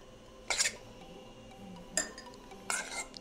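Fruit salad is spooned into a serving dish, with three separate clinks of dishware spaced across a few seconds over a quiet kitchen background.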